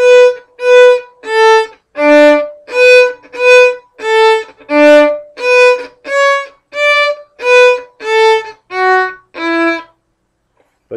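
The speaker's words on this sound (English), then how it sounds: "If I played that section staccato, it would sound like this." Violin played staccato at the tip of the bow, a run of about fourteen short, evenly spaced detached notes in a steady rhythm, close and clear with no talking.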